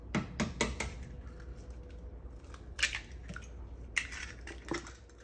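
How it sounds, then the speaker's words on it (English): Eggs cracked and whisked with a fork in a bowl for fried pork chops: sharp clicks and taps against the bowl in a quick burst, then a few scattered knocks, close and fairly quiet with no talking. "I'm gonna go ahead and crack the eggs. And you're gonna whisk those."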